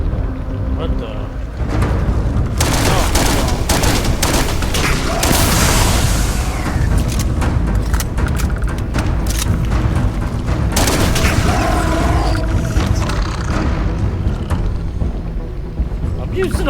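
Loud, continuous gunfire and booming impacts from the video game Starfield, dense rapid shots and blasts stacked over a constant roar of game effects, with a player's voice talking over the action.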